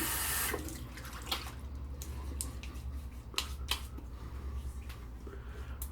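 Water from a tap runs steadily into a sink during a straight-razor shave, a soft continuous splash broken by a few brief clicks and taps close by.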